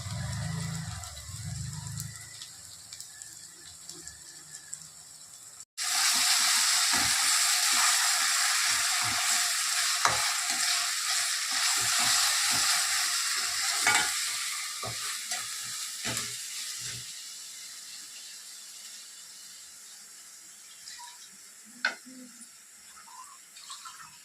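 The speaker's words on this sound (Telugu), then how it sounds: "ఉల్లిపాయ వేగి మసాలా వేసేస్తాం. ఇలా మనం నూనె పెట్టుకున్నాం కదండి" Onions with masala frying in oil for a Sunday mutton curry, a loud sizzle bursting in after a quiet start, with clinks and scrapes of stirring that fade as the hiss settles.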